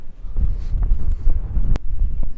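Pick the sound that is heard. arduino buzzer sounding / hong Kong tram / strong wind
strong wind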